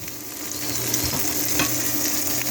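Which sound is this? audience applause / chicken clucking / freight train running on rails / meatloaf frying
meatloaf frying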